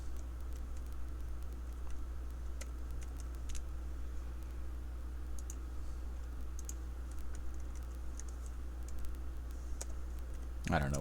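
Keys are struck on a keyboard while numbers are entered for a probability calculation, with quick irregular clicks scattered across a steady low hum, fairly faint, before a sudden rise in sound at the very end.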